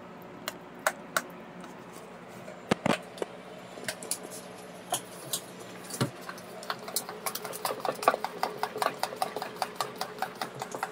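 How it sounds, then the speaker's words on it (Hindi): Cream being stirred in a pot on the stove to render ghee: quiet, irregular clinks and scrapes of a spoon against the pot over a low background hiss, with a few sharper knocks. "ये मैं निकाल रही हूँ मलाई से घी"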